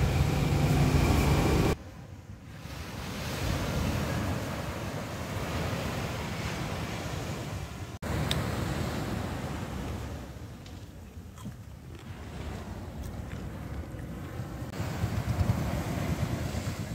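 Strong sea waves crash and surge at Pundaquit Beach in Zambales beside beached boats, a constant roaring wash buffeted by heavy wind gusts against the microphone, with no voices.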